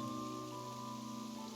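Steady, even rain falls in Genshin Impact's Fontaine region, a continuous wash that stays constant for the whole moment, with sustained tonal hums layered over it.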